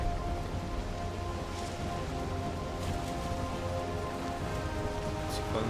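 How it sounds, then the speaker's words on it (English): Constant in-game rain from Valheim, a thick wash of drops hissing evenly over a low wind-like rumble, unbroken and fairly loud throughout. "No, it's just rain."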